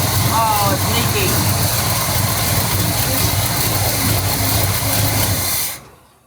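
A carbureted car engine runs steadily close by, its freshly fitted exhaust leaking, a loud continuous drone that holds for nearly six seconds and then cuts off abruptly to near silence.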